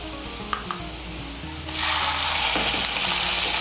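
Garlic paste frying in hot oil in a pan, quiet clicks at first, then a loud, steady sizzle that swells up and holds to the end.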